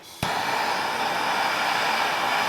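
A heat gun heating a stuck motorcycle swingarm linkage bolt switches on with a click and settles into a steady, close, hair-dryer-like blowing roar that continues evenly.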